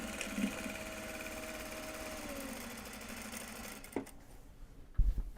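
A sewing machine stitches Japanese fabric for a large box bag, running with a steady mechanical whir for about four seconds, then stopping with a few clunks and a knock.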